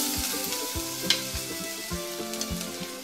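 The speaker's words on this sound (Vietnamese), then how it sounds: "bây giờ mình sẽ cho tỏi băm và hành tím băm vô" Minced garlic and shallots fry in hot oil in a pot, a steady close sizzle with soft bursts of crackle and a few stirring knocks, no voices.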